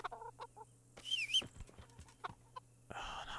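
Chickens in the medieval video game Kingdom Come: Deliverance cluck softly in short scattered bursts, faint and close, with a brief higher squawk in the middle.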